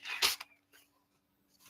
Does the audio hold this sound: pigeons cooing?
no